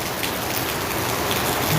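Heavy rain pounds steadily on a house roof and overflowing gutter clogged with leaves, a dense, continuous hiss of drops close to the microphone with no talk.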